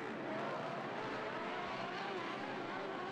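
UTV off-road race vehicles, two- and four-wheel drive units, sliding around a dirt track at a Lucas Oil Off Road Series round at Glen Helen; a broad continuous engine roar at mid distance, steady throughout.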